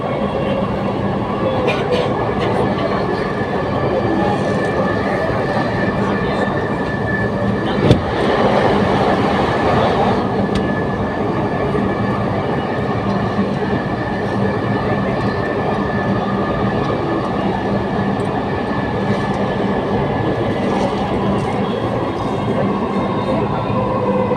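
A Dhaka Metrorail train runs toward Uttara North, a steady loud interior rumble and hum with a brief clunk midway and faint background voices.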